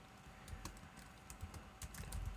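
Quiet, steady typing on a computer keyboard while writing code, a fast irregular patter of soft key clicks with no talking.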